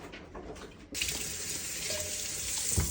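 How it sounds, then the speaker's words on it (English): A tomato is rinsed under a running kitchen tap; the water starts abruptly about a second in, then gushes steadily and close into the sink with slight splashing changes as the fruit is turned. "Wash your tomato."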